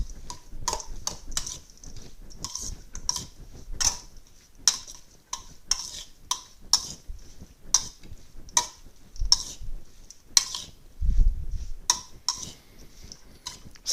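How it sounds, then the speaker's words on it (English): Tongs stir tomato, basil and garlic zucchini noodles in a bowl, making a string of sharp, light metallic clicks and taps at an irregular rhythm, close and fairly quiet. "we're just going to take some tongs like this, and we are going to give it a good stir"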